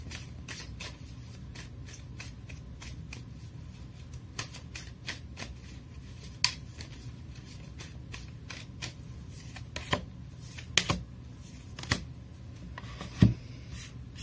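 Tarot cards being shuffled by hand, a run of quick crisp riffling clicks and slaps close up, with several sharper snaps, in a quiet room with no talking.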